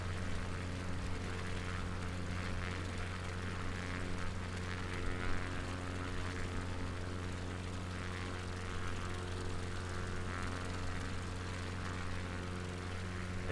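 Light propeller aircraft in flight over the Bournemouth coast near Boscombe Pier, turning toward the airport to land: a steady droning engine hum with a strong low tone, heard from inside the cabin with no talking.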